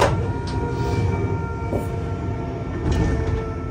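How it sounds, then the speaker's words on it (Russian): Train wheels slipping on the rails, heard from inside a German train's driver cab: a loud, continuous low rumble and grinding drone with steady tonal hum, no talking. "Поезд проскальзывает,"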